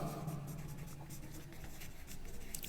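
Pen or pencil scratching steadily across paper as a maths lesson table is written out by hand, faint continuous strokes heard alone in a quiet room.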